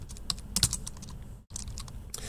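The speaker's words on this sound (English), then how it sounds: "So I'm just going to go ahead and start typing away here." Fingers tapping quickly on a calculator keypad while entering logarithm expressions, a close, uneven run of light plastic clicks with a brief pause midway.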